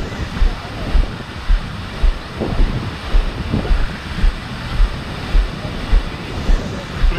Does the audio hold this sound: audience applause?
no